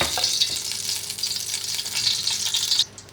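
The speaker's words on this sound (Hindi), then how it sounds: "इसमें मैं घी डालूँगी, 1 कप मैं घी डालूँगी।" Ghee heating in a pot for fish biryani makes a steady, bright, close sizzle with faint crackles, heard alone and continuous before it drops away abruptly at the end.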